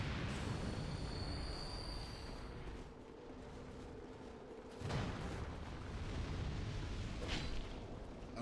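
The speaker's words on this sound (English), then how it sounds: "Oh, fire pillars" Fire pillars bursting up in Dark Souls 2, heard as a sustained rumbling roar with a couple of sharper whooshing surges midway and near the end, loud and close with no voices.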